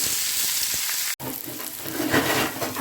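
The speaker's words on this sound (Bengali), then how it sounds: "আমার পেঁয়াজটা আর টমেটোটা মোটামুটি ভাজা হয়ে এসছে" Chopped onion and tomato fry in a hot wok seasoned with nigella seeds, giving off a steady, bright sizzle that cuts out for an instant and then resumes.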